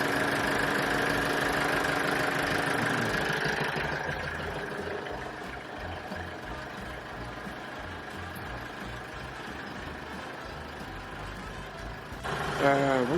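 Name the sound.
car engine running to warm up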